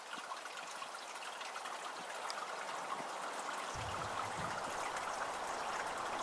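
Water flowing in Aliso Creek, a steady, gentle stream trickling and babbling softly at a distance, continuous and alone, with a slightly fuller splash entering partway through.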